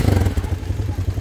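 A motorcycle engine runs close by in a short burst of throaty, uneven chugging with a faint rattle.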